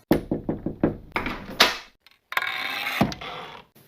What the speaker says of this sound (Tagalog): Kakatok na ako sa pinto.